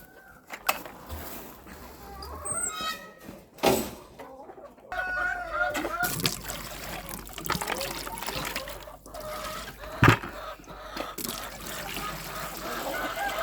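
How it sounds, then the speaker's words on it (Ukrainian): A startled hen clucks in a poultry enclosure on a farmstead, short agitated calls rising among rustling and splashing, while someone talks nearby. "Налякала курочку."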